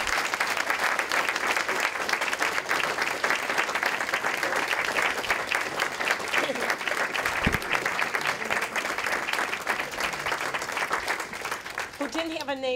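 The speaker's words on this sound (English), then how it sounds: "if we can give a round of applause to Cinda Kuhn, who's the co-owner of Lunch Cafe" A crowd at a State of the City event claps warmly and continuously for a cafe co-owner, loud sustained applause that begins to thin near the end as a voice starts in.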